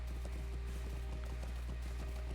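Rhythmic hoofbeats clatter at a quick, steady pace over a constant low hum, a horse galloping in the game Lord of the Rings Online.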